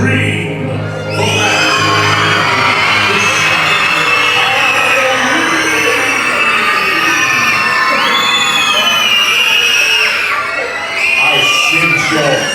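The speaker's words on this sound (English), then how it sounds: "Let me hear a loud scream." A crowd of children and adults shouts and screams loudly and continuously at a Halloween show aboard the Disney Magic cruise ship, a sustained roar of excited voices with a brief dip near the end.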